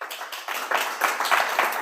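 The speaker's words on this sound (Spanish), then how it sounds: "De un aplauso a Dios" A brief burst of crowd clapping, steady and dense, with no other sound standing out.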